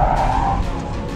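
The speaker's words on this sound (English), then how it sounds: "Lift off oversteer skid, super easy." A 2020 C8 Corvette Z51 on a track slides in lift-off oversteer, its tires giving a brief, loud, close skid squeal that blends with engine and road roar, with no talk over it.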